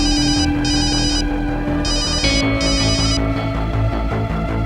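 A telephone rings in repeated bursts over a dense, loud music score, the electronic trill coming through in two pairs of pulses with no talking.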